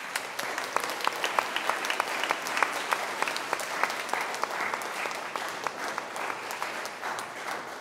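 A church congregation at a Vietnamese-language Christmas Nativity Mass at St. John the Baptist in Costa Mesa applauds steadily for nearly eight seconds, a dense, even patter of many hands with no talk.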